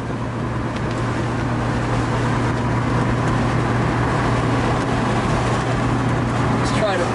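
A 1965 Ford Mustang convertible cruises down the road, its steady engine rumble and road noise continuous and fairly loud throughout, with a constant low drone underneath.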